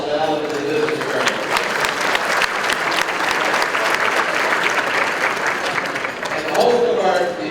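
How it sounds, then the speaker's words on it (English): A luncheon audience at a mayor's business event breaks into a sustained round of applause, dense, steady clapping from many hands that swells slightly near the end, with a faint voice underneath. "How about a round of applause to Ellen and the Business Journal?"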